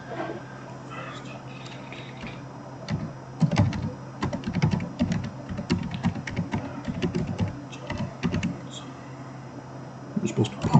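Typing on a computer keyboard, a steady run of close, clicking keystrokes in irregular bursts, with a low background hum and a person talking over it.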